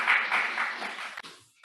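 Brief applause from a church congregation at a Unitarian Universalist new-member service, a short burst of clapping that fades out quickly, followed by a click.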